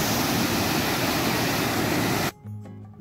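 Storm water pours through a canal toward the sea at Varna, a loud dense continuous rushing roar that cuts off abruptly near the end.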